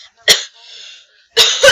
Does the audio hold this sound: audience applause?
no